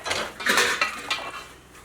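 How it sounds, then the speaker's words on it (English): Dishes being washed in stainless steel bowls at an off-grid homestead: metallic clinks and scrapes of cutlery against steel, several quick clatters close by with no talking. "So that's how we do dishes here."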